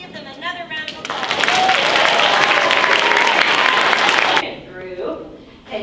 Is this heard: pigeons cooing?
no